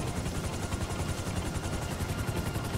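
Helicopter in Grand Theft Auto V, a loud continuous rotor chop with a dense, rapidly pulsing thrum, close and steady throughout.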